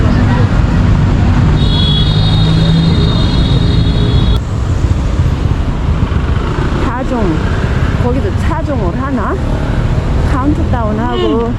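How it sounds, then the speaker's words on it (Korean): Busy road noise in Kuala Lumpur on New Year's Eve drones steadily, with queued idling engines and passing vehicles, a brief buzzing tone early on, and people talking over it later. "지금 시내로 들어가는 차들, 그 행사장 근처로 가는 차들이 다 줄줄이 서 있습니다."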